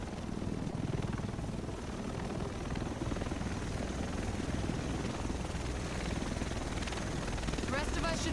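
A helicopter arrives in the video game The Division, a steady loud rotor roar filling the whole scene with constant chopping thrum, close and dominant.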